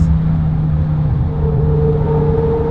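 A modified BMW M5 V10 Touring engine hums from inside the cabin, a loud, steady low drone with a constant tonal note and a second tone rising in toward the end while cruising.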